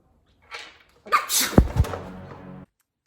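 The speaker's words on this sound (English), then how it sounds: "See us sneezing." A single sneeze bursts out close by, preceded by a short breathy intake and followed by a brief trailing vocal sound.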